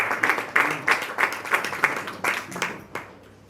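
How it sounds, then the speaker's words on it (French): An audience applauds for the president at a political party gathering, with steady, rhythmic clapping in bursts that fade out near the end. "On peut encore applaudir pour le président."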